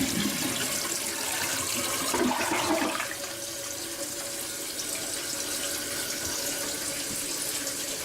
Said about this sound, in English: Not exactly a quiet tank to fill up